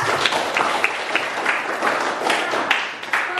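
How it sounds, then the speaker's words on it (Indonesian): Applause from students in a classroom after a pupil answers a question: a short burst of many hands clapping together, fairly close and continuous, with no talking over it. "Tepuk tangan untuk Eca."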